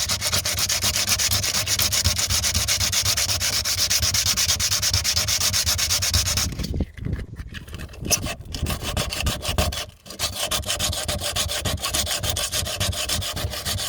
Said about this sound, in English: you're going to want to sand around the entire area, not just on the crack itself.